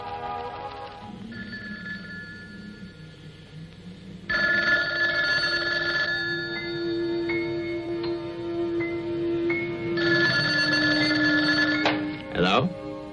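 A telephone bell rings in bursts up at the Butler house, loud repeated rings that alternate with quieter stretches and end in a sharp ring near the close.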